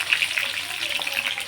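Cumin, curry leaves, green chillies and garlic crackle and sizzle in hot oil as a tempering, a soft, fairly faint spitting hiss lasting a second or two.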